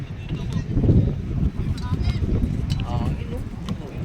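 Cool wind buffeting a microphone outdoors at a pickup basketball game, gusty low rumble rising and falling under people talking nearby.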